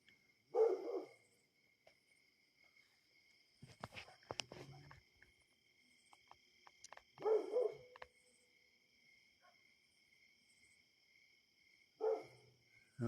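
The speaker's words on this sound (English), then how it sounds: "You can hear that coy dog." A coydog, a coyote-dog hybrid, barks and yips at night under a nearly full moon, three short bursts at a moderate distance over a constant drone of crickets.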